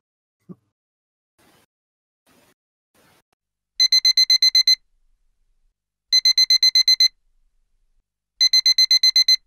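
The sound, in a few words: alarm clock ringing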